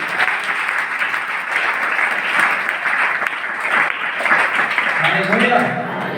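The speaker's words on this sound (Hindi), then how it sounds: "ताली बजाएंगे परमेश्वर।" Church congregation applauds during a Hindi sermon, a sustained, fairly loud roll of many hands clapping, with a voice beginning to speak over it near the end.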